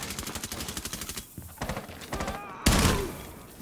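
Video game gunfire rattles in rapid automatic bursts, close and loud, followed by a heavier blast near the end. A voice can be heard faintly underneath the shooting.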